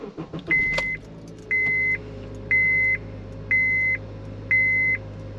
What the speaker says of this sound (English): I turn the car off, I'm going to turn it back on.